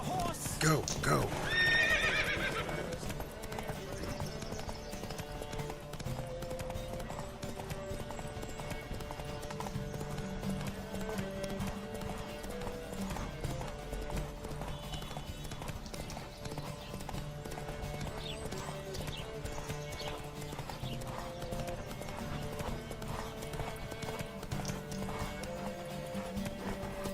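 Horses galloping in The Witcher 3 video game during a riders' race: steady rapid hoofbeats throughout, a brief whinny near the start, layered over game music with voices speaking.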